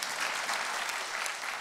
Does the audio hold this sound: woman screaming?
no